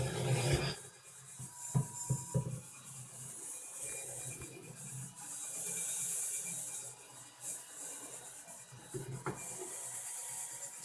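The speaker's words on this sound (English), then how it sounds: "So I got it hooked up into a drill." A drill spinning a cleaning brush scrubs inside a microwave oven with a steady whirring, rasping scrub that swells and eases across several passes, close and fairly quiet, with no talking.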